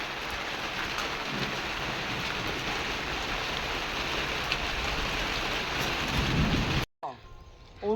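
Steady, loud rain pours down outside a home on Akshaya Tritiya, with dense broadband hiss and occasional low rumbles that may be distant thunder, cutting off abruptly near the end.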